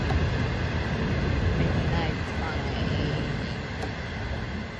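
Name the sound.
midnight train passing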